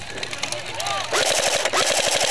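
Rapid bursts of airsoft gunfire at a large outdoor game with hundreds of players, a quick rattling string of sharp pops close by, with faint background chatter and outdoor noise.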